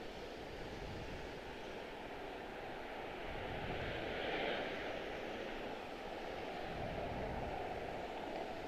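A regional Embraer ERJ jet coming in to land at Washington Dulles, its engines making a steady, broad roar that swells slightly midway and holds at a moderate distance, with no talk.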